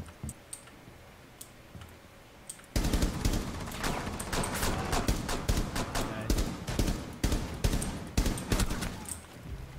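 Rapid gunfire in Rainbow Six Siege erupts after a quiet stretch with faint clicks, then continues as dense bursts of shots with uneven rhythm, loud and close, carrying on to the end.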